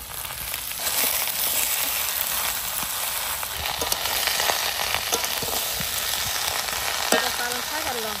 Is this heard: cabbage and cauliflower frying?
yes